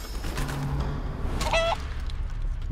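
A chicken in Divinity: Original Sin 2 gives a short squawking cluck over a quiet game background, preceded by a brief low honking call.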